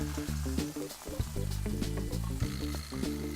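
Hogget shoulder browning in a hot tray, a continuous sizzle and crackle of fat with bumps and scrapes as the meat is moved around, close and fairly quiet.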